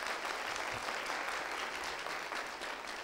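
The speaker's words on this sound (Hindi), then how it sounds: "चलिए पहले सवाल के लिए पहले ताली बजा देते हैं" A studio audience at a live education talk show claps steadily throughout, a dense continuous patter of applause with no voices over it.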